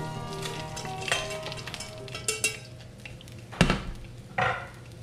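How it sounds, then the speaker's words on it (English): A pan still sizzling after searing scallops with thyme, with metal scraping and clanks as the thyme and fat are tipped out, a couple of sharper knocks of the pan over steady frying hiss, with no talking. "Discard the thyme and the fat from the pan."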